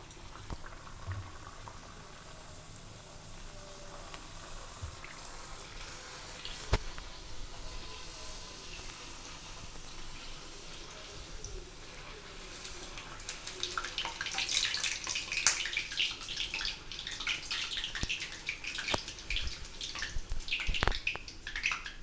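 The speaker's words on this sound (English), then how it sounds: "Now we will put this into hot oil." Bhature dough frying in hot oil, a steady bubbling sizzle that grows louder and busier about halfway through, with occasional faint clicks.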